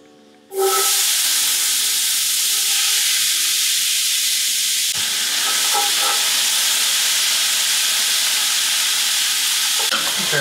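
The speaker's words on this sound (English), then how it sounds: "I'm gonna add in our little holy trinity here" A loud, steady sizzle starts as chopped onion, celery and bell pepper go into a hot pot for red beans and rice, with a brief clatter midway and another near the end, and nobody speaking.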